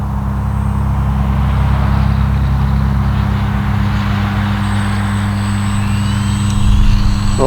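An Arrows RC Husky model airplane flies overhead at a field, its electric motor giving a steady loud drone with a faint high whine throughout.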